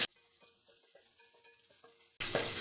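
Cut okra sautéed with a little salt over a medium flame for an Onam sadya sambar: faint scraping at first, then a sudden loud, steady sizzle close by near the end.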